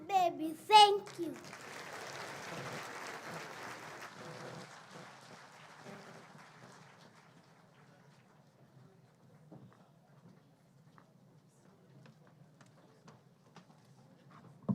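An audience at a school gala applauds a child's stage performance; a burst of clapping fades over several seconds into quieter scattered claps and murmuring, with a voice speaking near the start.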